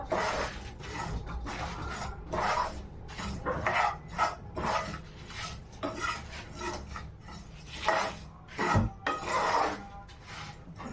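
Dry grated coconut stirred into sweet corn pakoda batter in a bowl, a steady rasping, scraping mix of wet batter and utensil against the dish with rhythmic strokes, close and moderately loud, no talk.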